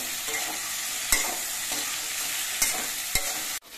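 Drumsticks tossed with Kashmiri chilli powder in a pan, a constant close sizzle under the scraping of a spoon, three sharp metal knocks spaced through it and a sudden cutoff at the end.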